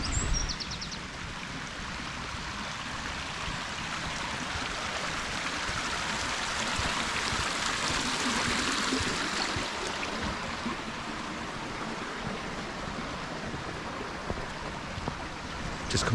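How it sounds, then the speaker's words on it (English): The River Goyt in the Peak District's Goyt Valley flows as a steady broadband rush of water, constant and fairly close, with no voices over it. "Just coming down to the River Goyt now."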